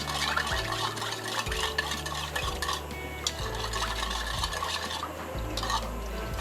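Sugar being stirred into thick milk for Lakshadweep kilanchi kattipaal makes a steady, close, sloshing swirl with rhythmic scraping against the vessel that repeats about every second and a half.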